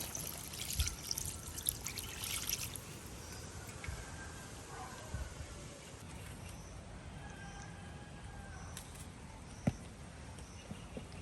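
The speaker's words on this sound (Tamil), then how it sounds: "இப்போ வந்து தேங்காய் பாலை சேர்ப்போம்" Coconut milk trickles and pours into a pot of fish curry cooked outdoors in a banana grove, a faint liquid stream with light splashes, with a voice talking at times.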